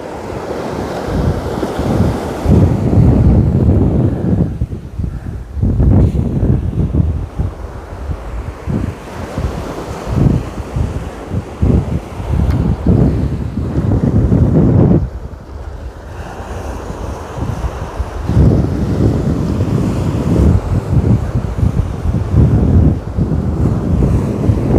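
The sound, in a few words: strong wind at the beach while fishing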